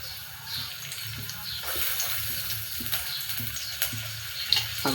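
Chopped onions sizzling in hot oil for Maggi noodles, a steady hissing crackle with small pops, fairly quiet and close, no talking.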